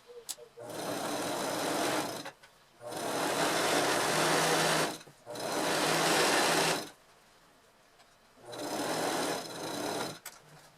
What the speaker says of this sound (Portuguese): E eu vou passar uma costura aqui de pé de máquina, uma costura reta